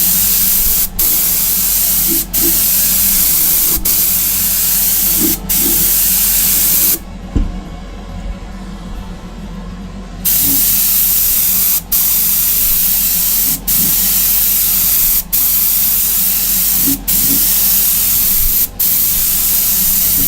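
An airbrush sprays base coat onto Greek style vases with a loud, continuous hiss, broken by brief regular clicks and one pause of about three seconds before spraying resumes.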